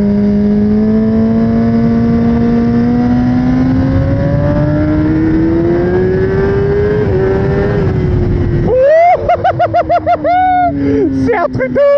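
A 2024 Kawasaki ZX-10R motorcycle engine accelerates, heard loud and close. The note climbs steadily in pitch for several seconds, then breaks into rapid, fluctuating revving.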